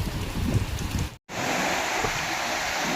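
Dense, steady rain hisses over floodwater rushing over a weir in Warangal, loud and continuous, with a brief dropout partway through.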